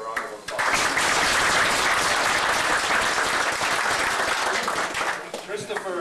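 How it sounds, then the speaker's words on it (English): An indoor audience at a special community event in Elliot Lake breaks into sustained, dense applause that swells quickly, holds for several seconds, and then tapers off at the end. "she deserves a round of applause."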